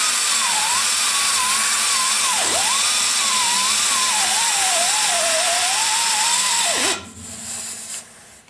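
A power tool grinds steadily into a mound on a cast cylinder head during porting, a loud continuous whine that dips in pitch under load twice before cutting off near the end, leaving quieter background noise.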